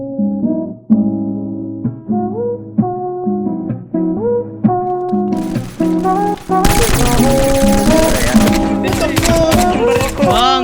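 Rapid bursts of automatic gunfire in the multiplayer game SA-MP, starting as spaced single shots and building into a loud, dense barrage over the last few seconds, with no talk.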